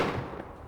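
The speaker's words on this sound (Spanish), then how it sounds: "Y un tercer disparo." A third gunshot from a rifle during a presidential motorcade in an open car, a single sharp blast whose echo rolls and fades over well under a second.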